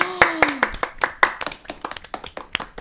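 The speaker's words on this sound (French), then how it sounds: "On peut l'applaudir encore une fois" A few people in a podcast studio clap, giving sparse, uneven close claps with a brief voice at the start.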